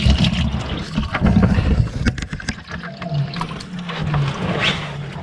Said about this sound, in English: so our coolant is draining there